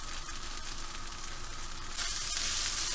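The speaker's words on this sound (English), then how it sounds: "Stir everything together and let it cook for like 3 minutes." Chicken pad thai noodles and sauce cooking in a hot pan, a steady close sizzle that swells louder near the end, with a faint stir and no talking.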